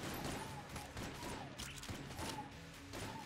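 Rapid automatic gunfire from a turret in the roguelike shooter Enter the Gungeon, a dense rattling burst that runs the whole moment amid busy game effects and music.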